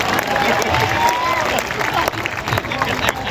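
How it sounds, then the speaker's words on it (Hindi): Audience at a Hindi comic poetry gathering applauding after a devotional song ends, a crowd of clapping mixed with chatter and scattered cheers, fairly loud and close, with voices murmuring through it. "तालियां बजाइए।"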